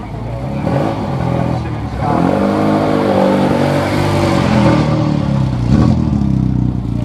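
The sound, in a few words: classic Mini Cooper race car driving at Thruxton circuit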